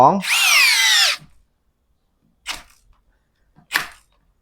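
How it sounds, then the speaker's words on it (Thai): A CANLIDI CID-60 cordless drill whirs loudly for about a second, its pitch climbing and leveling, then stops; two short clicks follow moments later. "ตัวสว่านตัดการทำงานก่อนนะครับ"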